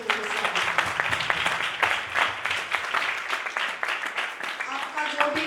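A church congregation at Trinity Assemblies of God applauds in a dense, sustained wash of many hands clapping, with a voice speaking over it.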